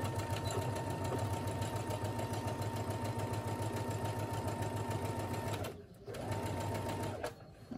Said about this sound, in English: And then you're just gonna sew across